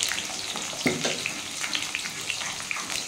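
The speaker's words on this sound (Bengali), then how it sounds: "আলুগুলো আমি একটু লাল লাল করে ভেজে নেব।" Potatoes frying in oil in a pan, a close, steady sizzle and crackle with light stirring scrapes and a few sharper pops.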